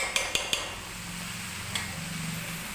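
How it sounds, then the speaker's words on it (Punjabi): Okra is stirred in a pan: three quick metallic clinks of a utensil against the pan, then a lone fourth tap, close and fairly quiet over a steady background hiss. "ਇਸ ਤਰ੍ਹਾਂ ਭਿੰਡੀ ਚੰਗੀ ਤਰ੍ਹਾਂ ਮਿਕਸ ਕਰ ਲੈਣੀ ਹੈ"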